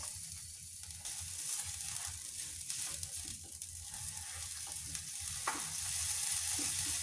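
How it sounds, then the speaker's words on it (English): Onion and garlic frying in a pan while being stirred, with a constant soft sizzle and the intermittent scrape and clack of a utensil along the bottom, close and moderately quiet, no speech. "We just keep stirring, scraping at the bottom."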